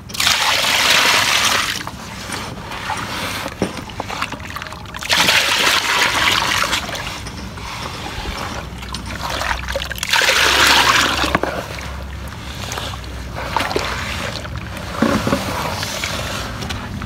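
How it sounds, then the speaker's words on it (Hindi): Water is poured into a basin to wash a gold-coloured item. The pouring comes in three loud splashing bursts, with quieter trickling and dribbling between them. "अब इसमें हम पानी डालेंगे"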